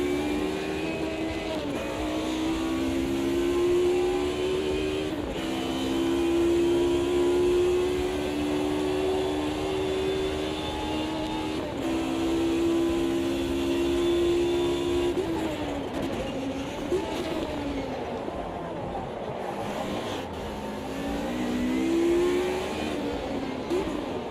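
Sim racing car engine in a video game, a high droning rev that climbs and falls in long sweeps and holds while in neutral after a missed shift, steady and moderately loud.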